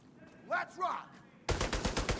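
Rapid video game gunfire breaks out in the second half as a loud, evenly spaced burst of about eight shots, following a stretch of quieter game sounds with brief voice-like calls.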